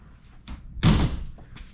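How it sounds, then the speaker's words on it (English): A shower door aboard a 2001 Fantasy houseboat swings shut with a single loud, close slam and a short rattling ring-out, framed by faint bumps before and after. "you heard that shower door close"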